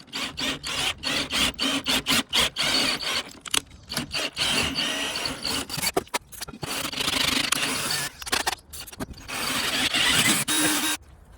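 A cordless drill works in a threaded hole in an alloy part on a CA18DET engine: harsh, grinding mechanical scraping in steady bursts with brief pauses, loud and close, without talking.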